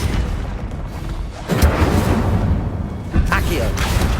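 Incendio fire spell cast in Hogwarts Legacy, a loud whooshing burst that swells and then hits again with a second booming flare, under spoken voices.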